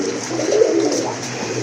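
A pink-beaked, snake-eyed pigeon gives one short, throaty coo, close and fairly loud, with no other sounds around it.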